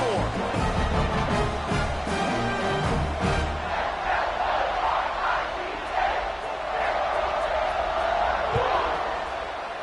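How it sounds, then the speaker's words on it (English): A college football stadium crowd buzzes and roars in a dense, continuous wash after a score, with a commentator talking over it. "this crowd is buzzing after that last score"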